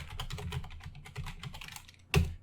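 Rapid clatter of computer keyboard typing, keystrokes tumbling in an uneven run before a single sharper, louder press of the enter key near the end, close and alone.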